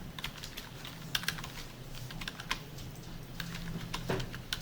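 Keys clatter on a computer keyboard in a run of quick, uneven taps, close and fairly loud, with no voice over them.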